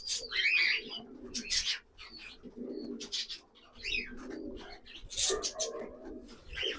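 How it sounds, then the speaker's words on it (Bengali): Teddy pigeons coo in a loft, soft throaty rolling calls repeating at close range, mixed with chirps and wing or cage rustles. "এটা কিন্তু টেডি পায়রা, টেডি একদম অরিজিনাল"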